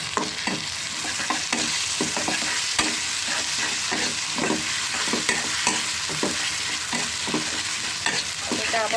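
Onion frying in oil with garlic and ginger paste for a dried-fish curry, a steady sizzle broken by repeated scraping stirs of a spatula, close and continuous.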